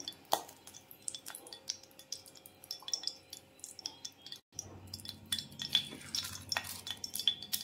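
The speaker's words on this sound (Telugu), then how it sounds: "ఇలా నెయ్యి యాడ్ చేసుకొని ఫ్రై కాస్త వేడైన తర్వాత అవి ఫ్రై చేసుకుందాం" Ingredients fry in ghee over a medium flame for katte pongali, heard as a soft sizzle under scattered spoon clinks and scraping against the pan, with a brief drop-out midway.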